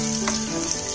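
Bell peppers sautéing briefly in a hot pan for chilli paneer, a short, steady, fairly loud sizzle heard on its own.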